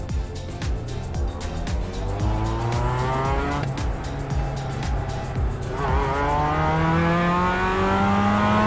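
A race car in iRacing warming its tyres, the engine droning and revving with repeated tyre squeal, the pitch climbing steadily toward the end.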